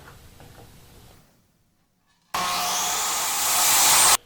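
A power cutter trims excess wood off a pen blank: a near, loud, steady roar of about two seconds that starts suddenly after a brief silence and rises slightly before stopping.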